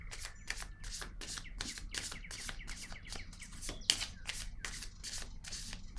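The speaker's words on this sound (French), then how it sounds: "Je vais déposer une autre carte ici." Playing cards are laid down and handled during a card reading, giving a steady series of soft, crisp snaps and slides that repeat roughly every half second at close range, with no one talking.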